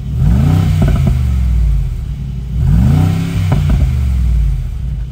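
A 2023 Mercedes-AMG G63 SUV with its louder exhaust mode engaged revs twice, each blip rising sharply and falling back to a deep rumbling idle, loud and close.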